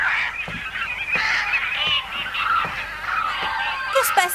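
Geese or similar birds honk repeatedly in an animated French-dubbed cartoon episode, a dense, fairly loud flock of calls with brief thumps and a voice near the end.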